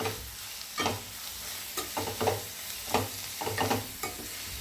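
Drumstick leaves with turmeric being stirred in a pan for a Telugu drumstick-leaf tomato curry, a soft sizzle running under repeated scraping strokes of the spoon at an uneven rhythm, close and fairly quiet.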